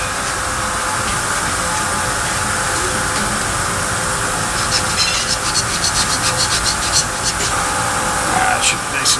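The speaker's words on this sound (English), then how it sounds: "I'm going to hit that with some Scotch-Brite." A Scotch-Brite abrasive pad is rubbed over metal on an El Camino starter job, giving a loud, continuous scratchy scrubbing noise, with faster back-and-forth strokes near the end.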